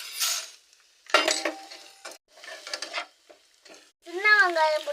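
Garlic and chana dal fry and get stirred in a hot pan, giving short bursts of sizzling and scraping separated by quiet gaps, close and moderately loud, with a brief voice-like tonal sound near the end.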